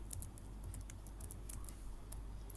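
Quick, steady clatter of keys on a computer keyboard as code is typed, soft and close with an even low hum beneath the irregular taps.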